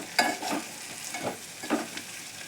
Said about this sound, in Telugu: కలుపుతున్నాను మంచిగా అంతా కలిసేలా.